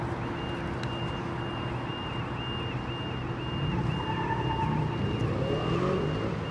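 Jet aircraft engine idling at London Heathrow Airport, a steady low rumble with a sustained whine, heard from a distance amid continuous airport ambience.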